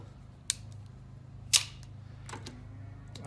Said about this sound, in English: I've got my crimping pliers here.